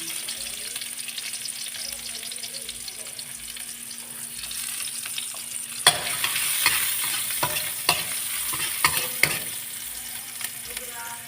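Garlic and onion sautéing in a pan for pork afritada: a steady sizzle that grows louder, then a run of crisp spatula strikes and scrapes in the second half, with no talking.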